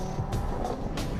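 A 2014 Mercedes-Benz CLA45 AMG with its turbocharged four-cylinder and all-wheel drive laps a figure-8 track, its engine roaring steadily with brief bursts of tire and wind noise as it passes.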